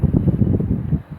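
Wind gusting at a rainy lakeside campsite, buffeting the microphone with a low, fluttering rumble that stays close and fairly loud through the whole short stretch.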